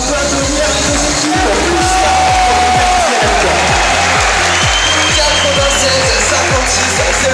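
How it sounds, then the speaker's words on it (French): Crowd at an esports final at Paris Games Week, a dense roar of applause and cheering with a rhythmic thumping beat under loud talk from an announcer. "Premièrement, je peux applaudir les équipes."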